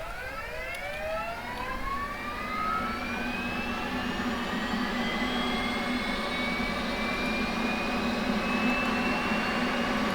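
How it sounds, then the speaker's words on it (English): An F/A-18C jet engine starting up in a flight simulator game: a whine climbs steadily in pitch as the engine spools up, over a constant loud roar with no talk. "then start your F-18"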